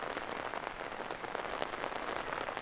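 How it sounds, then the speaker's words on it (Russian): Steady rain pours down in a park near a Polish palace at Chraplewo, a dense, even hiss of drops hitting surfaces, close and continuous with no voices. "У нас зарядили дожди."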